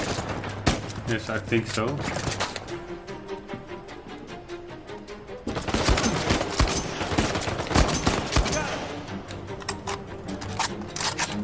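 Heavy gunfire rattles in repeated rapid bursts during an Uncharted 4 firefight, loud and close, with a person speaking briefly over the shooting.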